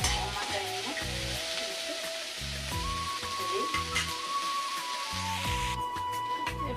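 Dry and green chillies sizzling in a pan of oil, a continuous close crackling fry under rhythmic low music, fairly steady in level.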